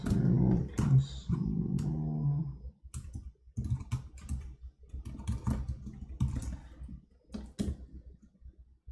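Typing on a cardboard computer keyboard: soft, papery key clicks in uneven bursts with short pauses, fairly quiet and close, no talk over it.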